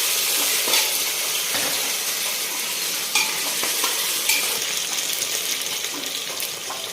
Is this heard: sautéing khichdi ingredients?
yes